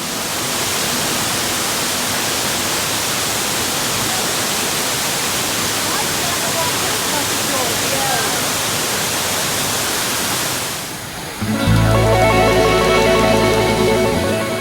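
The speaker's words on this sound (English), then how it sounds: "the trail passes behind the waterfall" Steady, roaring rush of Silver Falls, a 93-foot waterfall in Silver Falls State Park heard from the trail behind it, loud and continuous, with a brief dip near the end before a heavier, closer pounding of water.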